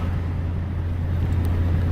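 Pickup truck fitted with a Snow Dog plow on the front, driving along a road; a steady low engine drone and road rumble run continuously, close and fairly loud, with no talk.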